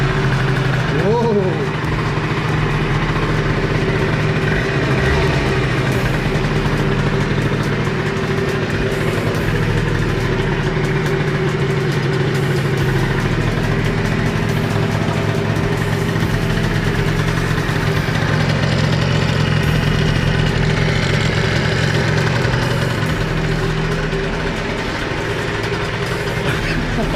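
A moped engine fitted with an Airsal 70 cylinder kit runs steadily just after starting, a loud, buzzing, close idle with a constant drone throughout, and people talk over it.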